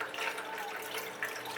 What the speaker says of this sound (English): We got water going in.